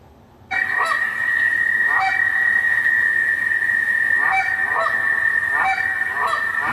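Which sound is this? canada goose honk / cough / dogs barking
canada goose honk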